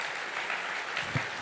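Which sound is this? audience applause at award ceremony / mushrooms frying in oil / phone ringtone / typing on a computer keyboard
audience applause at award ceremony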